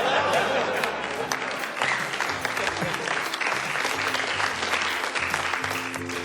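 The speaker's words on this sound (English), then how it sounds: "It's those scattered applause breaks that make it all worthwhile" Audience applause during a stand-up comedy show, a dense, loud crowd of clapping that stays steady and close for the whole stretch.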